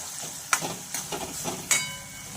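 Slit green chillies fry in hot oil over a medium gas flame, a soft, continuous sizzle punctuated by a few sharp spattering pops and stirring knocks, without any talking.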